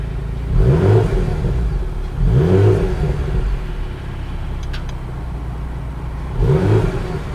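A Porsche Macan GTS engine with its exhaust open revs three times from nearby, each rev a short swelling rumble rising and falling, with steady idle in between and no talk.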